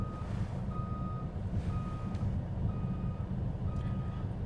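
A school bus sounds its reversing alarm, a steady series of evenly spaced beeps over a loud low engine rumble, nearby and without talk.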